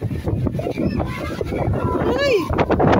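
Wind blowing across a beach in Greece, a steady broadband rush buffeting the microphone, with people talking and voices of bathers and children in the background.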